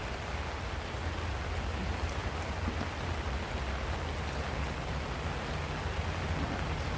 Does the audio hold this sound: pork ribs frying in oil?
no